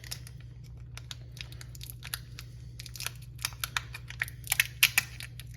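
Masking tape is pulled and wrapped around a stack of pennies, a series of quick crackling, tearing and crinkling sounds, close and growing busier toward the end over a faint low hum.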